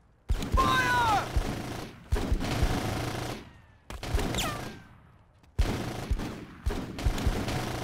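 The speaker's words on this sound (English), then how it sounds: "We're under small arms fire!" Small arms gunfire in the video game Full Spectrum Warrior: Ten Hammers, coming as several loud rapid bursts separated by short quiet gaps, with a few whining ricochet tones over the rattle.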